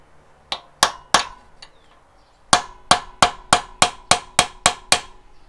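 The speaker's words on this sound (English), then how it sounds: "Trust me, I don't like hitting this thing with a hammer either, but gotta crack this thing loose." A hammer striking a stuck part on a barn-find Benelli 750 Sei six-cylinder motorcycle: a few sharp metallic clangs, a pause, then a run of eight evenly spaced, ringing blows, close and loud.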